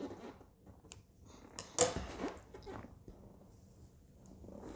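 Scissors give a single crisp snip while cutting a small loose thread on a pair of pants being sewn. The snip is close and brief against a quiet, faintly rustling room.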